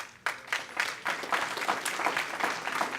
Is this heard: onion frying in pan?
no